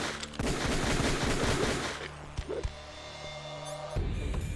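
Rapid gunfire in Metal Gear Solid: The Twin Snakes, a dense burst of shots for about two seconds, then a few separate loud single shots over a steady low game hum.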